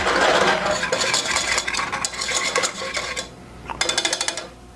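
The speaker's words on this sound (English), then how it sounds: "we're going to whisk this around" A whisk scraping and rattling through a roux in a metal pan, steady brisk stirring with clinks, then a short quieter pause and a last quick flurry of taps.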